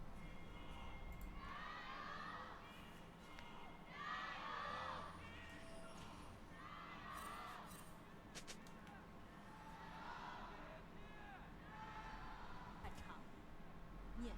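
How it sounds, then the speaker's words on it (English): A distant crowd roars and shouts in repeated swelling waves, with a constant reverberant rumble beneath, in a large arena at a League of Legends esports match. "we'll hear what the crowd has to say about it."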